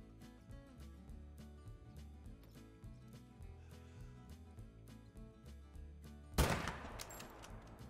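A single sharp rifle shot at an animal in theHunter: Call of the Wild, a loud crack near the end after quiet, with a brief ringing tail over soft background music.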